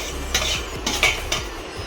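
Capsicum is tipped into a pan of carrots and peas being cooked for Maggi, giving a few light spoon scrapes and clatters against the pan over steady low background noise.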